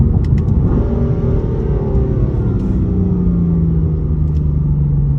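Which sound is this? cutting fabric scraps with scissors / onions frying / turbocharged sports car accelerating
turbocharged sports car accelerating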